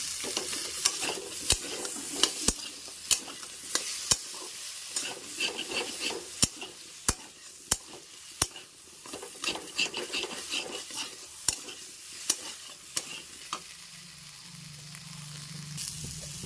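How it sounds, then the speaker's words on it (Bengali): Chopped tomatoes with potatoes and ginger paste sautéing in a pan for a Bengali potato and pointed gourd curry, a steady sizzle broken by frequent sharp scrapes and clacks of a spatula stirring against the pan. "ভালো করে কষিয়ে নেব এবার টমেটো কুচিয়ে দিচ্ছি"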